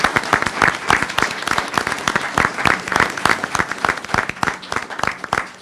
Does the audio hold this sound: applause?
yes